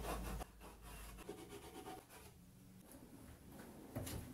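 Candle wax rubbed onto a wooden table saw sled: quiet, close, scraping and rubbing strokes of varying length repeat throughout, with no talk.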